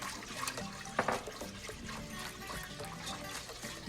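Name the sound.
pouring heavy cream into the pan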